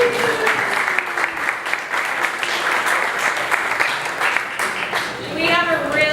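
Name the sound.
audience applause for everyone who came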